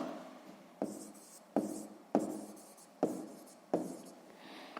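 Pen strokes scratch out a sixth-grade fraction exercise, five firm bursts of writing at steady intervals, each starting sharply and trailing off, close and clear with no talking.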